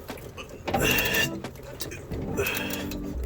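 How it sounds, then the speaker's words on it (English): A Scion FR-S engine cranks over on the starter in two rough, whirring bursts with a short pause between them, close by, as someone speaks over it. "I'm gonna go ahead and crank it."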